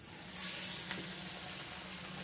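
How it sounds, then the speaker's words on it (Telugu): Balls of masala vada dough bubbling in hot boiling oil, a steady close sizzle and hiss without pause. "ఆయిల్ మరిగిపోయింది కాబట్టి ఒక్కొక్కటి వేయాలంటే టైం పడుతుంది"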